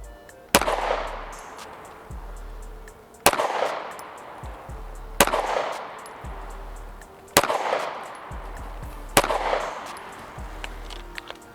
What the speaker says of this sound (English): All right, we are gonna shoot at 5 yards.